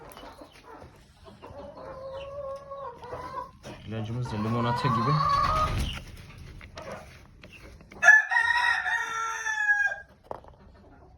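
Chickens in a coop clucking, then a loud rooster crow near the end, close by, with a person talking over the first part.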